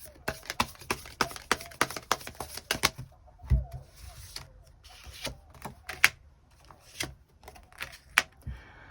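Tarot cards are shuffled in a quick run of crisp, close riffling clicks, then sparser taps and slides follow as individual cards are drawn and laid down.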